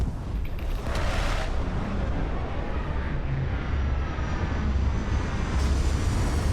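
A spaceship in the Starfield video game comes in to land with its landing gear deployed, a loud continuous engine roar and rushing rumble that holds steady throughout.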